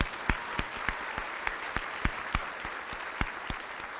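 Applause from a high school graduation crowd honoring the top 10 graduating students, a steady wash of many hands clapping with a few sharper, louder claps standing out above the rest.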